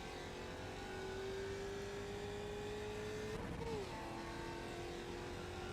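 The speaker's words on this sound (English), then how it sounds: "The car sounds so cool." Race car engine in the iRacing simulator, a steady high engine whine holding pitch, then a quick blip and drop as it shifts down, continuous and fairly quiet with no talk over it.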